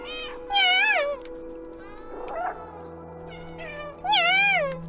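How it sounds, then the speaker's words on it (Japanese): A cat meows in the video game Stray: two loud, drawn-out meows, one early and one near the end, with a brief soft rustle between them over a steady low background hum. "にゃーと泣くには B を押す。"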